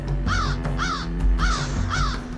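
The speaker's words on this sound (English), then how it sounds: "Arath is even sadder, with a single crow replacing the wolf chorus" A single crow caws repeatedly in a fantasy RPG game, four harsh calls in a steady rhythm over a low ambient drone, fairly close and clear with no talking.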